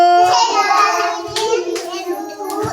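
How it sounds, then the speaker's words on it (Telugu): Children clapping their hands along to a sung children's song, with a few sharp claps at uneven intervals under their singing voices. "క్లాప్స్ కొట్టండి"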